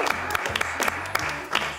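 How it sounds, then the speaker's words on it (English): An audience at a comedy show gives a round of applause: scattered, moderately quiet clapping with a few sharper individual claps, over a low background tone. "Big round of applause."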